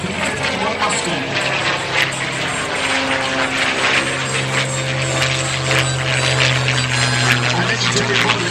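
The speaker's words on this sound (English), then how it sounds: "What a beautiful sight and incredible sound for the aerial roll of the P-51 Mustang." A North American P-51 Mustang's piston engine drones steadily through an aerial roll at an airshow in Davenport, Iowa, a continuous loud roar with a low sustained hum, while a voice talks over it.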